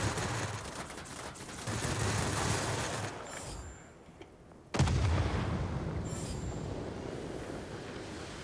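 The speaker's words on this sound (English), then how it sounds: "I still have plenty of machine guns." Aircraft machine guns of an XF 36F fire in a video game, a dense, continuous rattling roar that briefly drops out before resuming at full volume.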